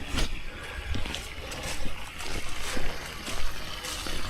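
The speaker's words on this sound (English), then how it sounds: "He's flushing the slurry out of our conduit pipe." Water gushes and splashes as slurry is flushed out of a conduit pipe beside freshly exposed aggregate concrete steps and patio, an uneven, close spattering flow with irregular bursts.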